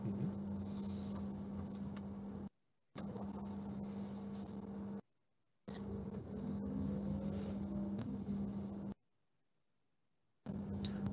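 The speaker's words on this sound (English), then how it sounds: "it's a very soft whining sound of the huge electromotor that's inside" A hydrogen-powered vehicle's large electric motor gives a soft, steady whine with a faint rising tone as it brakes and accelerates slowly, heard in quiet interior segments broken by brief gaps of silence.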